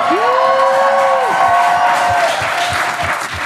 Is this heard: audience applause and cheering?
yes